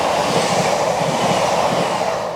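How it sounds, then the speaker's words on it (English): A British passenger train, the type the line runs such as Class 195 or 331 units, rolls through a station on the Calder Valley line, a loud, steady, close rumble with rhythmic wheel clatter and no speech. "Is this a train? Yeah."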